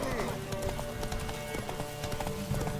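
Horse hooves clip-clop at a steady trot in The Witcher 3 on PS4, close and fairly quiet, under game music and a character's voice.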